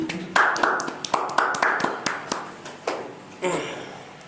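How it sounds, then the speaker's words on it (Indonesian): Applause from an audience at an indoor talk-show event, uneven claps and taps rising in short bursts several times over a few seconds, moderately near, with no speech over it. "kita beri aplaus"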